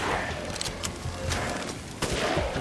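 A few sharp gunshots in Resident Evil Village's Mercenaries mode in The Village, loud cracks standing out against busy combat noise, the last one landing near the end.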